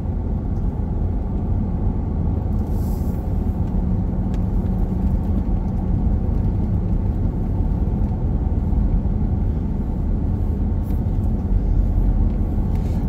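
A car drives along a closed mountain road from Angelus Oaks toward Mentone during the Line Fire, its engine and tire rumble loud, steady and close throughout with no break.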